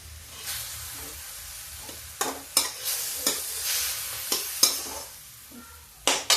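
Fried potatoes being stirred into a spinach curry in a pan, a sizzling hiss broken by several sharp scraping strokes of a spoon at irregular intervals, close and clear, with no voices.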